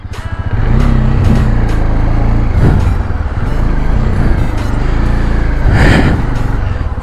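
A motorcycle engine runs loud and close after being restarted on a mountain trek trail, holding a rough steady idle with a couple of brief throttle blips.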